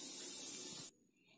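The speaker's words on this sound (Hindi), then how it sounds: "कुकर का सीटी भी आप लोगों को सुनाई दे रहा होगा" A pressure cooker whistle: a loud, steady hiss of escaping steam that cuts off abruptly after about a second, leaving quiet room tone.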